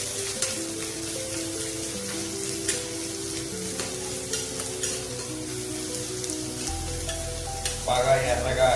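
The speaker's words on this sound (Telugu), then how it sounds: "నూనె మరిగిన తర్వాత ఈ ఉల్లిపాయల్ని కళాయిలో వేసి వేయించుకోవాలి." Onions frying in hot oil in a kadai for a hotel-style egg curry give a continuous, moderate sizzle with soft crackles and occasional stirring scrapes, and a voice briefly starts up near the end.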